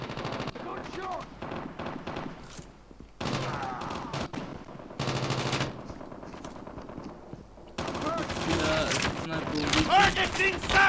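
Rapid automatic gunfire bursts from the mobile video game Call of Duty Mobile, several loud rattling volleys separated by short pauses, the last burst running longer and denser.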